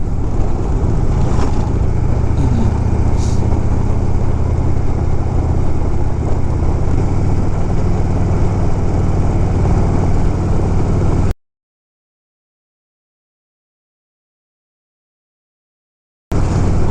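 An old motorcycle engine rumbles steadily on the road, a continuous loud mid-to-low drone that holds for about eleven seconds before cutting off abruptly into silence, then resuming briefly at the very end.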